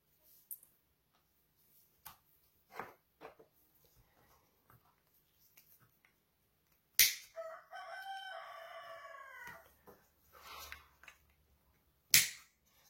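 A rooster crows once, loud and close, after scattered soft ticks and clicks, and a sharp click follows near the end.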